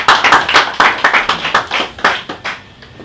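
A small crowd at a press conference applauding for a production company, a few pairs of hands clapping loudly and unevenly for about three seconds, then fading.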